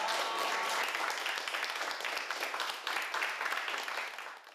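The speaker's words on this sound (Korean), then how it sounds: "수고한 우리 모두를 위해서 박수 치며 마무리하겠습니다." Group of class participants claps together at the end of a software workshop session, a full, even burst of applause that holds steady and then fades out at the end.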